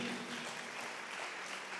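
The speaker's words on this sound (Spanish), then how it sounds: "dele un fuerte aplauso" A church congregation applauds at a Christmas Sunday service, a soft, distant, continuous patter of many hands with faint voices underneath.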